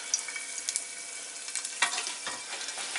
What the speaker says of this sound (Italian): vedete come soffrigge bene? Sentite che sfrigolio.